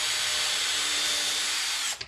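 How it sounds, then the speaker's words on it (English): A power drill bores pin holes into wooden shutter louvers with one continuous high whine that runs loud and close for about two seconds, then stops abruptly. "you just drill out both sides and it's all set for the pins to go into the louvers"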